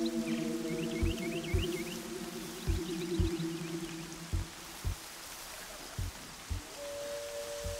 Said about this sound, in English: the rain is awesome